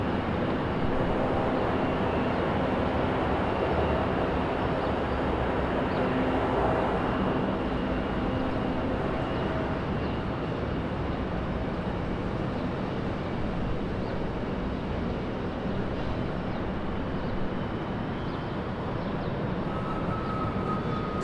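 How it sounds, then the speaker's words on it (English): A Delta Boeing 737 airliner taxiing at Raleigh-Durham airport, heard as a continuous broadband jet engine roar that holds steady for the whole stretch, distant and unbroken, with no talking. "We'll get a close-up of that 737 taxiing his way to his gate here in a moment"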